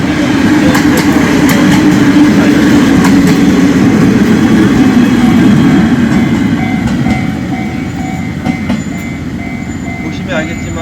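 A Yangon circular railway train rolls past close by, a loud, continuous rumble of wheels and carriage clatter that holds steady for about seven seconds before easing slightly as it moves on.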